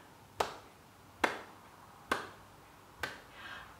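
Four evenly spaced, sharp claps, close and fairly quiet, mark a steady beat during a Scottish folk song session, with a soft hush between each one.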